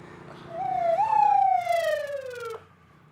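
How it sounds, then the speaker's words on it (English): Ambulance siren arriving at a road accident scene: a single loud, rising then slowly falling wail that sweeps upward, holds, and glides down before cutting off abruptly, close by and with no talk over it. "I'm gonna hold your head until the ambulance gets here."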